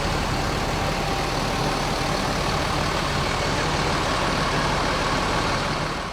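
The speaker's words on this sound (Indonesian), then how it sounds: "Nah, ini bus yang kita naikin, ALS" An ALS 388 intercity bus sits idling in light rain, its engine a steady low rumble beneath a dense, even wash of broadband noise that holds unchanged for about six seconds, with no voices.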